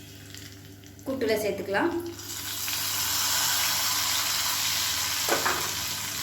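Cumin, urad dal and curry leaves spit and crackle in hot oil for a kootu; someone speaks briefly and a utensil scrapes before the sizzle swells into a steady, close hiss.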